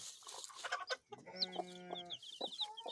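A Leghorn cross hen clucks and chatters close by, with a steady drawn-out note mid-clip amid other fowl calls and soft rustling.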